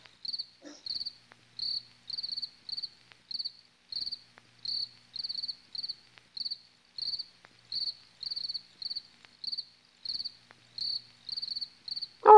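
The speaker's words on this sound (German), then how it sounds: "Die Grillen zirpen." Crickets chirp in the video game Lucent Heart, a steady series of evenly spaced high trilling pulses repeating throughout in an otherwise quiet scene.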